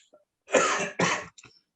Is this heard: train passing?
no